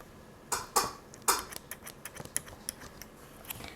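Sharp little snips and clicks of dull scissors cutting craft material for a doll's suitcase come in a loose, uneven series, quiet and close, with no voices.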